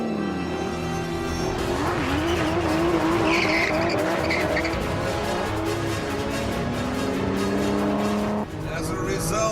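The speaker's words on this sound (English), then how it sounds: "the DBS's V12 produces 510 brake horsepower" An Aston Martin DBS with a 510-horsepower V12 engine accelerates hard with tires squealing, a loud sustained rising engine note running through the whole stretch, with someone talking over it.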